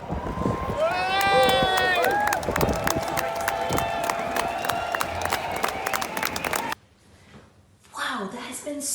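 Crowd at an Extinction Rebellion closing ceremony in London cheering for protesters brought down from a pyramid by a cherry picker, with whistles, shouts and clapping mixed with voices before the noise briefly drops away.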